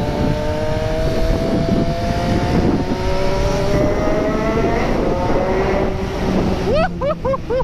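A 2020 Triumph Street Triple RS 765 motorcycle's engine runs loud and close, with its steady droning pitch climbing as the revs rise, then sharp quick blips of throttle near the end.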